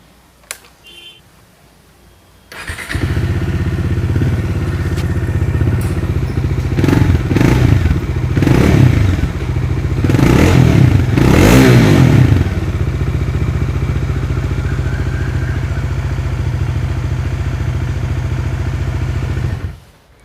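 A Bajaj Dominar 400 motorcycle starts up close after a few quiet clicks, settles into a steady, deep exhaust idle, gets several throttle blips in the middle, then idles on until it cuts off.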